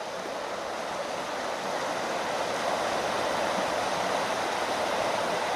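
Creek water flows steadily where gold panners work, a constant broadband rushing hiss that stays even and unbroken, slightly louder in the second half, with no talk over it.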